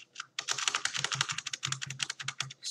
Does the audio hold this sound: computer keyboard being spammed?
yes